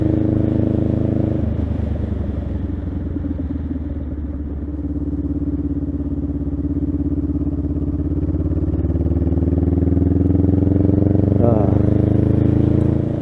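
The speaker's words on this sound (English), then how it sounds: "Oh, there's a bike." A motorcycle on the road rumbles past close by, its engine drone swelling and shifting pitch over several seconds before rising again near the end, with a faint voice in the background.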